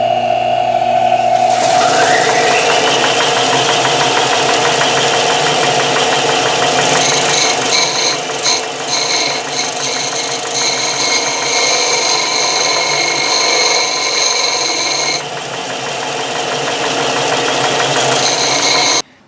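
Disc sander running on an old small hatchet head, a loud continuous motor whine with grinding texture that shifts in tone as the metal is pressed to the disc, close and steady throughout.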